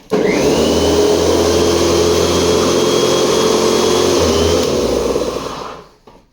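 A Stihl RME 235 electric lawn mower switching on, its motor whining up quickly to a loud, steady drone close by, then spinning down and fading to silence at the end.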